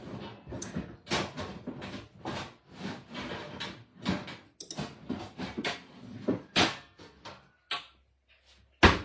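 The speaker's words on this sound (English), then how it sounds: "Let me grab this pan. Hold on 1 second, y'all. It might make some noise" Metal baking pans clatter and scrape in a series of sharp knocks and bangs, close by, as one is pulled free from under a larger pan in a stack.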